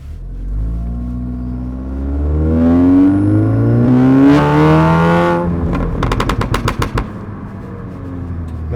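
An Audi S3 in dynamic mode revs up in a rising, rumbling engine swell, then lets off into a rapid burst of sharp exhaust crackles and pops, loud and close, with no talking.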